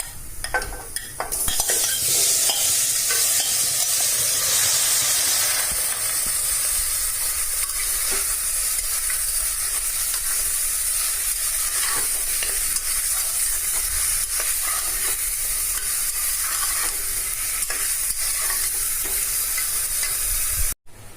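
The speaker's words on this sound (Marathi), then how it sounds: "कांदे लाल झाल्यानंतर आपण हे मटण टाकून घेऊ याच्यात" Loud, steady sizzling of mutton frying with browned onions in a pan, with occasional stirring scrapes, continuous for the whole stretch and cutting off abruptly at the end.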